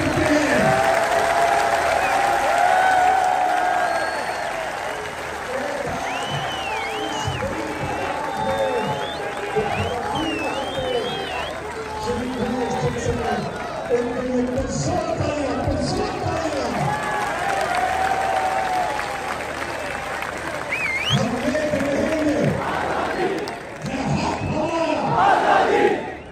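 A large PTI rally crowd roars, cheers and applauds continuously in a dense, loud wash of shouts and clapping, with chanting voices rising and falling throughout.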